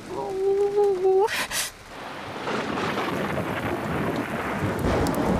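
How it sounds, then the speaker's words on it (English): A thunderstorm breaks with a loud thunder crack after a voice makes a brief sustained cry, followed by steady heavy rain hissing at a constant level. "You see, Julian, thunderstorms might sound scary, but they're not really."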